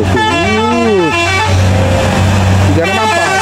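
An ALS intercity bus on the Medan–Pekanbaru route sounds a loud, melodic multi-tone horn while passing on the road, with engine rumble beneath and a second horn burst toward the end.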